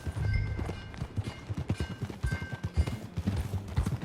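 Horse hooves clip-clopping at a steady riding pace in the video game Red Dead Redemption 2, a close rhythmic run of hoofbeats with a faint background hum and no talking.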